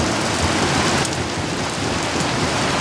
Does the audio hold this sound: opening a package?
no